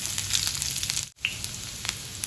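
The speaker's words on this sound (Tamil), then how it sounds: "நமக்கு கடுகு வெந்தயம் நல்லா பொரியுதுங்க" Mustard seeds and fenugreek frying in hot oil for a Kerala ash gourd buttermilk curry, a steady close sizzle with faint popping crackles throughout.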